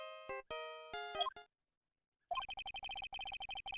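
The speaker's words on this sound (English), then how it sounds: "I know that song your phone plays when it rings." A mobile phone plays a melodic electronic ringtone, a few bright notes, a pause, then a rapid run of repeated pulsing tones, clear and close, with nobody talking.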